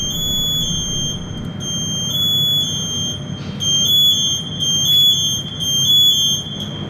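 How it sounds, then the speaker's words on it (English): A firefighter's motion-sensing personal alarm device sounds continuously, loud and close, as a steady high-pitched shrill tone with a repeating pulsing pattern. "the device will go into alarm."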